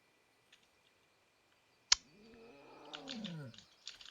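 A pet cat lets out a single drawn-out meow after a sharp click, its pitch rising then falling over about a second and a half, close and fairly loud against a quiet room, followed by faint clicks.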